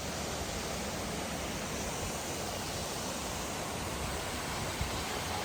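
Steady broadband rush of a waterfall at the Santa Paula Punch Bowls creek in Los Padres near Ojai, California, a continuous roar heard close and loud with no talking.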